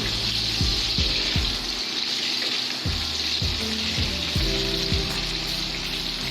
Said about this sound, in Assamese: এয়া মই ৰঙাকৈ পিঁয়াজখিনি ভাজি ল'ম